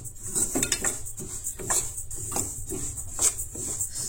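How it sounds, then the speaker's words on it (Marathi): Moong dal being stir-roasted over medium heat in a pan for a Goan sweet dish, with a spatula scraping and clinking against the metal in a steady, repeated rhythm. The sound is close and clear, with no one talking. "अशा तरेन ती मातशी परतून परतून भाजपाक जाय"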